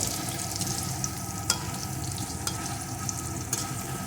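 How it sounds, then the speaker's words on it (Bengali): Spices and vegetables fry in a pan for a pabda fish curry with potato, bori and eggplant, giving a steady, close sizzle with a few sharp clicks from stirring. "এখন একটু ভেজে নেবো"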